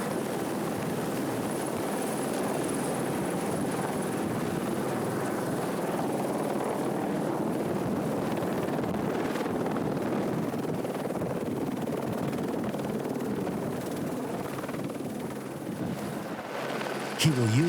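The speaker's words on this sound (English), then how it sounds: "There's no place to set the chopper down. The best that Mike can do is to get within 15 feet of the ground." Helicopter hovering low, about 15 feet above rough ground during an antelope relocation in Kenya, a steady, loud rotor thrum and engine roar that continues throughout, with a narrator speaking over it.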